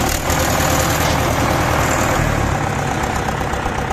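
A heavy tractor diesel engine idles steadily and loudly up close, a continuous low rumbling chug with no talking.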